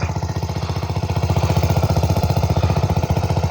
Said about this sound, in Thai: ผมก็เป็นแผนกติดเครื่องสูบให้เขาแล้ว